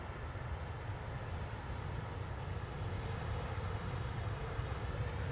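A Malta Air Boeing 737 arriving at London Stansted Airport, its jet engines giving a steady, fairly distant roar that swells slightly toward the end, with no talking.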